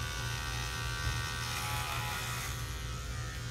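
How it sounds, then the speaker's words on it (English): Electric hair clipper fitted with a number 3 guard running while cutting hair, a steady close motor buzz with a low hum that holds constant throughout, no voices. "pick up your clipper, snap on your number 3 guard. You want to start at the base and slowly move the machine up."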